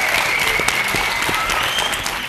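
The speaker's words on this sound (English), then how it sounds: "Round of applause for Jabulani." A group applauds during a televised leadership challenge, dense continuous clapping from many hands, loud and close throughout.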